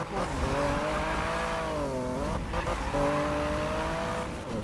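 A car drifting in the Need for Speed video game, a loud sustained engine drone with long tire squeals that bend in pitch as the car slides through corners, with a voice talking faintly over it.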